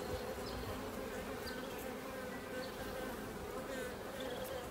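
Honeybees buzz during a hive inspection on a day of bad weather, a dense, steady swarm drone filling the whole stretch at an even level with no speech.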